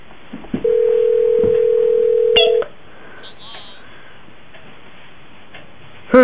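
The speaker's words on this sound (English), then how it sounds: "Okay, it's ringing. Now it is." A phone call's steady electronic ringing tone holds for about two seconds, followed by a couple of brief beeps, then quiet line noise and a short burst at the end.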